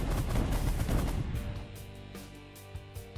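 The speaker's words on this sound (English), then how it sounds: "I'm going to fire the Giga Cannon second time" A Giga Cannon fires in the space strategy video game The Last Federation with a single heavy, booming blast that rumbles and decays over a few seconds, followed by faint lighter clicks.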